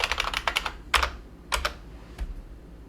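Someone types a folder name on a computer keyboard in rapid clusters of close, crisp key clicks, a quick run of strokes followed by a few separate taps and pauses, with no talk.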